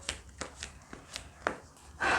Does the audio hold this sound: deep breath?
no